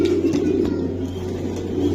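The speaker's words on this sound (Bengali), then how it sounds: "জনসনের ব্লাড লাইনের কবুতর ভাই আসলে পালেন" Racing pigeons in a loft coo softly and repeatedly, low rhythmic calls overlapping in a steady close murmur with a constant background hum and no talking.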